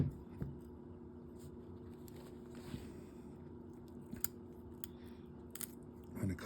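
Scissors snip through a grouse's skull where it meets the meat during taxidermy prep, giving a few quiet, crisp cuts and crunches close by over a low steady background hum.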